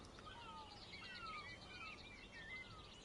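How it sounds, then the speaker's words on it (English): Seagulls calling at a railway station in Train Sim World 3, several faint high cries repeating over a soft ambient background, with no talk. "You can hear the seagulls"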